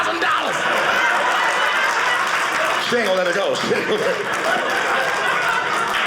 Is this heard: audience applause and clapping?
yes